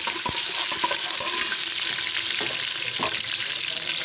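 Garlic ginger paste frying in hot ghee, a loud continuous sizzle with scattered crackles and pops, close up and without any voices.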